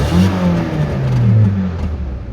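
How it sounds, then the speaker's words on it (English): A car revs through a bad-sounding exhaust, a loud rasping surge that rises and falls over a couple of seconds, close and alone with no talk. "Yeah, that's a bad exhaust, but for different reasons."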